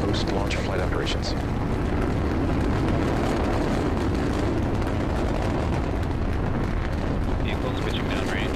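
A SpaceX rocket carrying NASA's TESS telescope, its first stage engines giving a continuous, heavy, crackling roar that fills the whole stretch loudly, with faint voices under it.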